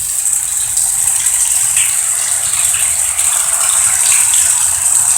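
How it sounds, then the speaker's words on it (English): Heavy runoff water pours and gushes like a river through a street and under a parked car during a hailstorm in Tigard, Oregon, a steady, loud, continuous rushing with no talk over it. "You can hear the water. It's pouring, it's pouring."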